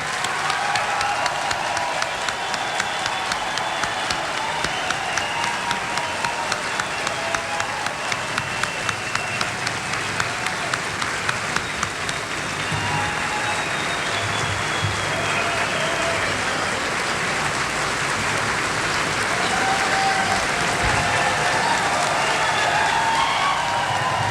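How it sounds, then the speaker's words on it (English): Sustained applause from a debate audience at a Libertarian Party presidential debate, steady dense clapping with a crowd wash that runs the whole length, loud and close with no talk over it. "if you'll join me in a round of applause for 4 of the most honest candidates anywhere"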